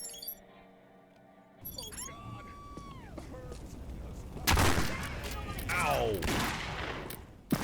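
Loud gunfire bursts erupt in POSTAL 4 about halfway through, following quieter game sounds, with a voice exclaiming in pain.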